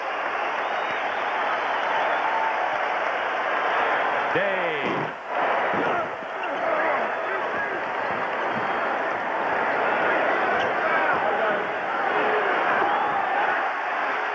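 A basketball arena crowd of more than 23,000 roars at the end of Game 3 of the 1987 Celtics–Pistons playoff series as the Pistons win. The sustained loud cheer runs the whole time beneath an announcer's voice.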